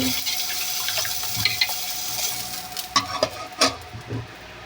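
Chilies frying in a pan give off a steady crackling sizzle, with bursts of clinks and scraping from stirring toward the end and no speech.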